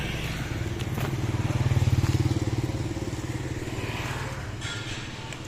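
Scooters ride through busy city streets in a polluted town, a close, steady rattling engine buzz that swells briefly and then settles, with no talk.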